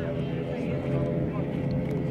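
Older 86-engine race boat at a water ski race at Weston-super-Mare, a continuous droning engine roar heard from a distance, steady and unbroken throughout.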